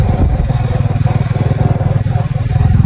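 A motorcycle engine chugs close by in a steady, pulsing throb as it rides along, with a faint rattle over the low beat.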